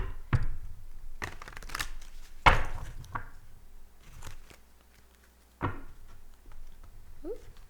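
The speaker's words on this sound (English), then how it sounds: "Feeling called to shuffle again." Tarot cards are shuffled in several brisk riffling bursts separated by short pauses, close by, with faint murmuring between them.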